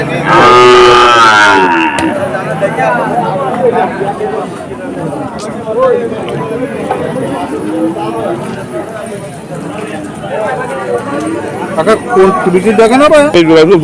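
Loud, drawn-out cattle moos ring out close by amid a busy crowd at the Chuknagar cattle market, with chatter and hoof clops in the background throughout.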